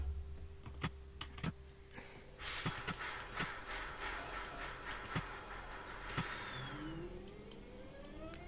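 A train passes in Train Simulator Classic on the Birmingham Cross City Line near Four Oaks, a steady rising rumble with hissing and repeated rail clicks, loudest mid-pass, heard alongside sharp keyboard typing clicks.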